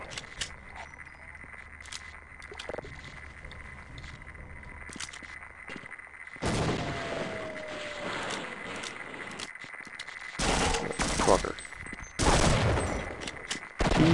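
Shotgun blasts in Half-Life ring out in separate loud bursts, first sparse and then clustered, against a quiet hum between shots.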